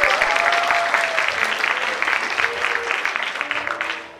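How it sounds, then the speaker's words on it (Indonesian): A church audience at a Vision Night gathering applauds warmly, a dense, loud burst of clapping close by that holds steady and then tapers off near the end. "Silakan Stephen, berikan dong tepuk tangan dulu yang terbaik"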